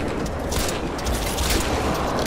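Sustained gunfire in Crysis 2, a loud, dense clatter of rapid shots running continuously for a couple of seconds with no voices.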